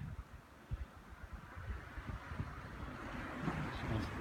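Faint wind blows outdoors during snowfall, a soft low rumble with small buffeting gusts against the microphone, rising slightly toward the end.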